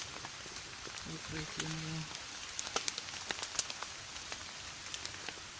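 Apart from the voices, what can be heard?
rain falling outside shelter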